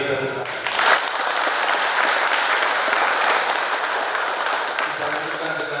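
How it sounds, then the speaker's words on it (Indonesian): Wedding guests at a Catholic church ceremony break into loud, sustained applause that swells quickly and holds steady, close and full, with a voice briefly heard at the start. "Kita beri tepuk tangan."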